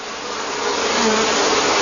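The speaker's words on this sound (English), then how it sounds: "The place is literally buzzing." Bees swarm and buzz steadily inside a hive, a dense close drone that holds at an even loudness throughout with no voices.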